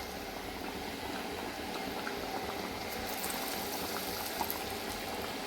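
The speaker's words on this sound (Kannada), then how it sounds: "ಡೀಪ್ ಫ್ರೈ ಆಗ್ತಾ ಉಂಟು" Sweet potato batter deep frying in oil in an iron pan, a dense, steady bubbling hiss heard close and alone with no talk.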